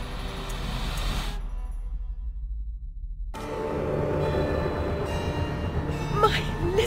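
A train runs in the video game Alice: Madness Returns, a steady mechanical rumble and rattle that briefly cuts out, then returns fuller and continues to the end.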